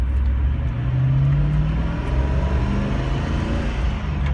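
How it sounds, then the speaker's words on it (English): A 1980 two-door Range Rover Classic with a four-speed manual gearbox pulls away in first gear, its engine giving a steady low rumble and drone heard from inside the cabin without interruption. "It is a 4-speed manual transmission vehicle. We're in first gear now."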